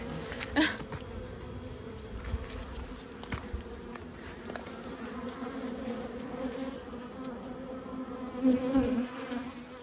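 Honeybees buzz steadily around an open beehive during a hive inspection, a continuous droning hum at moderate, close range with a few louder passes near the microphone and no talking.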